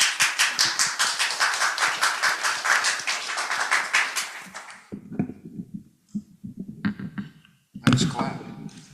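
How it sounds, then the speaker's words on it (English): A live audience claps steadily for about five seconds at the start of a Sunday talk, dense and even, then breaks off into scattered sounds and a short final burst. "Nice clap."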